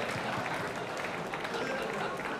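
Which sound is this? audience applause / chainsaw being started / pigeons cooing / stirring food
audience applause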